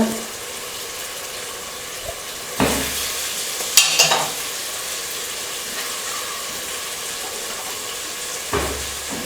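Mushrooms sauté in a pan with chili powder, a moderate steady sizzle punctuated by several sharp spatula scrapes and clatters.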